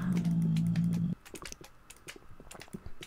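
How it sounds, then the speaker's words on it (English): Rapid, irregular clicking of a computer mouse during a Minecraft Nether expedition, crisp close taps in quick bursts following a brief low hum at the start. "Can you tell I'm panicking just by the sound of my mouse clicks right now?"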